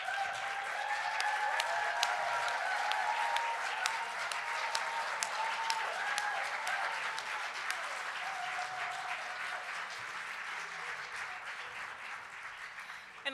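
A graduation audience in a hotel ballroom gives PhD faculty a long, sustained round of applause, a dense wash of clapping with faint cheering that carries on for over ten seconds before tapering slightly.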